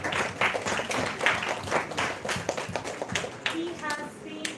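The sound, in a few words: audience applause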